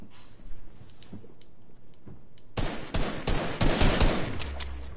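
Gunfire in the video game Fortnite: quiet shuffling first, then a rapid run of loud, sharp shots cracking close together for the last couple of seconds.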